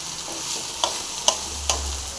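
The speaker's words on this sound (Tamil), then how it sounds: "நல்லா அப்படியே ஃப்ரை பண்ணுங்கள், நல்லா ஃப்ரை ஆகட்டும்." Pirandai (adamant creeper) frying in sesame oil for a Tamil recipe, giving a soft steady sizzle with a few sharp clinks and scrapes of stirring spaced about half a second apart, close by and without talk.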